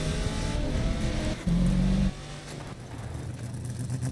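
A Ford Raptor race truck engine in the video game SnowRunner drones loud and steady, revving with a brief higher-pitched whine before settling back into a rough, continuous rumble.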